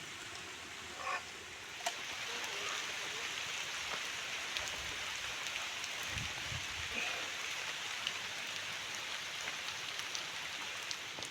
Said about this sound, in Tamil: இப்போ பாருங்கள் நல்லா மழை ஆரம்பிச்சிருச்சு